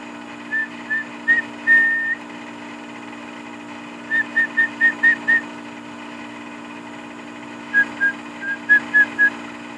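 A person whistles in three bursts of short, clear, repeated notes, with one longer held note in the first burst. The whistling is close and loud over a steady low hum, and pauses separate the bursts.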